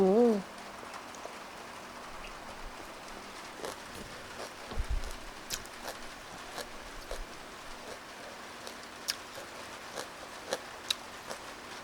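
Rain falls as a steady, soft hiss with scattered louder drops and ticks across the whole stretch, faint and even, with a brief voice at the start.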